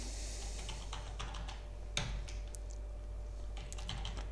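Soft, irregular clicking of keys on a computer keyboard, a few quick bursts of typing over a faint background hum.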